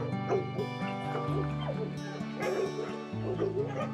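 Labrador hunting dogs bark and yip during a training demonstration, with repeated sharp barks and some whimpering at close range over a steady background hum.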